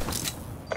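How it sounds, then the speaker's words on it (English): A bomb is armed in Call of Duty Black Ops 3 with a brief, faint mechanical clicking and ratcheting, ending in a sharper click. "Bomb is armed."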